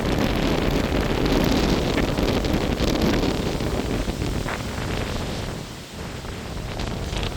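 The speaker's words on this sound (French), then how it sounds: "Il y a encore de sacrés rafales qui arrivent" Strong wind gusts in a summer thunderstorm, a dense roaring rush buffeting the microphone almost without pause, easing briefly before surging back.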